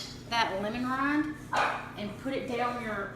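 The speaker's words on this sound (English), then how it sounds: "And you can hear my puppy in the background." A puppy barks and yips in the background of a home kitchen while someone keeps talking over it during cooking.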